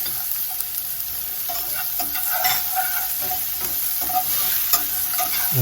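Onions fry in olive oil in a pan, giving a bright continuous sizzle with occasional spatula scrapes and stirring taps, close and fairly loud with no voices.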